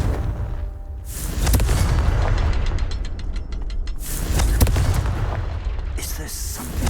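Confringo blasting spell explosions in Hogwarts Legacy, several heavy booming bursts with rumbling low end and crackling debris over about seven seconds, loud and close amid game ambience.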